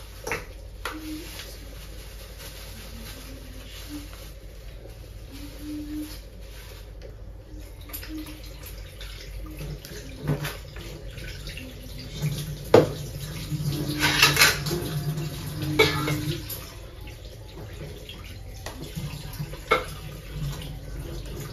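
Raw chicken rinsed under running water at a kitchen sink, with steady low running water, clinks of a bowl and utensils, and a busier splashing stretch midway.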